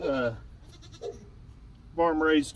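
A young male goat at a farm health check bleats in short calls, one faint and one louder and wavering near the end, close to the listener.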